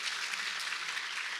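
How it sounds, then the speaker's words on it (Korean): Broadband, even applause from a church congregation during a Sunday worship service, steady throughout with no voices on top. "수고 많으신데 박수라도 쳐줘"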